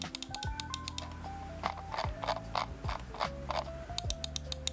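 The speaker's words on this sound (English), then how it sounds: "It really gives off that retro clickiness from the old mouse that we've used back in the day." Sharp, close clicks from a retro-style Lofree Touch computer mouse sound in irregular bursts, some fast clusters, over quiet background music.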